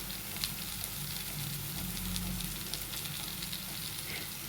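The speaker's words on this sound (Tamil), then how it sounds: "ஒரு தேங்காவை வச்சுருக்கேன் அதை இது கூட போட்டு வதக்கிக்கலாம்" Grated coconut and onions sizzle and fry in a pan, a steady close crackle with a faint stirring scrape now and then and no talking.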